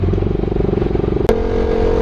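A Yamaha R15 v3 motorcycle engine with a silencer fitted in the muffler drones loudly and steadily at close range while riding on a bumpy road, with a brief sharp clack partway through and no talk.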